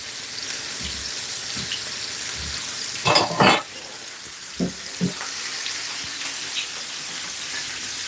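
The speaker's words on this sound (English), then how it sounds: "Gonna cook off these plantain now." Plantain slices fry in a hot pan with a steady broadband sizzle throughout, broken by a few louder pops and scrapes close up, with no speech.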